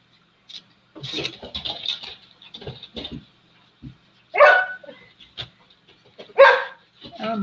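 A playful dog gives several loud, close barks and yips, two sharp bursts standing out, interspersed with quieter mixed voices and light talking in the room.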